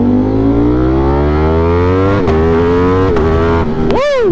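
A 208 HP Ducati motorcycle revs on a commute, its engine note climbing steadily and loudly, broken by a few sharp exhaust pops before a final quick rev spike.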